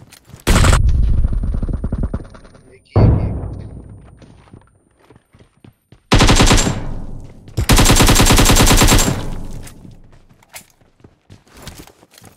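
Loud automatic gunfire from the mobile shooter PUBG Mobile rattles in several sustained bursts, each with a sharp attack and a ringing tail, separated by short quiet gaps.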